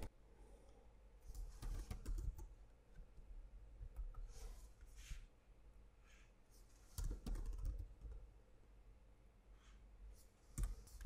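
Bursts of keyboard typing in a quiet room, entering random text into a Word document: quick clustered key clicks in short flurries, with pauses between them.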